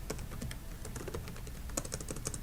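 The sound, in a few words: typing on a computer keyboard in Excel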